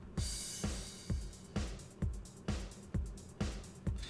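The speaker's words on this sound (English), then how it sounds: "Obviously that's my synthwave beats down here." Standard synthwave drum beat with slight reverb, punchy kicks on a steady beat about every half second, with bright snare hits and a sizzling hi-hat wash, faint and mechanical.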